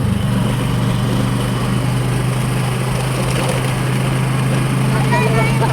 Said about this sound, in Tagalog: Naka-motor, naka-tricycle lang kami mga kaibigan.